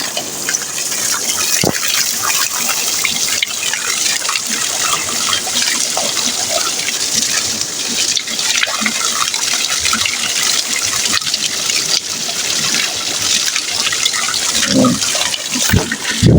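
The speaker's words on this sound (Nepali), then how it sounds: "सर र मस्त आउँछ ऊ त्यता जान्छ यो पानी बगेर।" Water poured out of a container splashes and gushes away steadily beside a river in Gandaki, a loud continuous rush of flowing water with no talk.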